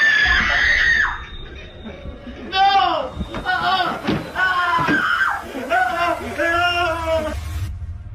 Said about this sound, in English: they heard a frightening scream